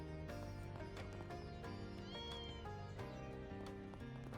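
A kitten meows in the video game Trails Beyond the Horizon, quiet and mixed under steady, busy game music.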